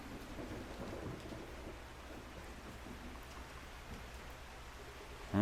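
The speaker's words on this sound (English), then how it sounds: "Rain's so strong, the mud splashed all the way here." Heavy rain pours steadily in the Makoto Wakaido's Case Files video game, a thick wash of downpour with low rolling thunder underneath and a sudden loud burst at the very end.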